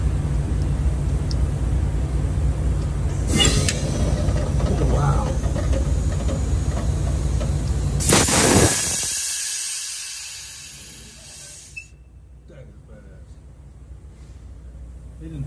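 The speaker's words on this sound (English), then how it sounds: "No, the chambers are actuating perfectly." Trailer air brake chambers actuate by remote control beneath a trailer, giving short sharp bursts of air hiss over a steady mechanical rumble; a long burst ends abruptly and leaves a quieter background.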